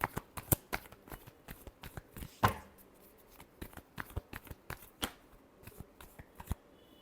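Tarot cards are shuffled by hand close up, a rapid series of sharp riffling slaps and flicks in an irregular rhythm with no talking.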